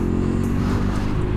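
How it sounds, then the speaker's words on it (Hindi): Motorcycle approaching on a mountain road near Manali, its engine a loud, steady rumble mixed with the drone of another vehicle close by, with no talking. "आगे से बाइक वाला आ रहा"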